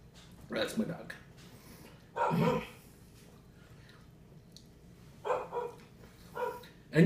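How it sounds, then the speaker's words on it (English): A dog barks in several short bursts spread out over a few seconds, fairly close, with quiet gaps between the barks. "That's my dog."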